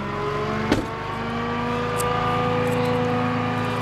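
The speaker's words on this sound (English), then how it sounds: "I'm gonna reach in here and turn on the PTO by pushing the button. This turns all the hydraulic systems on." Flatbed tow truck with its PTO engaged to run the hydraulic system, a steady engine drone with a whining pump tone, a single click near the start, close and without talk.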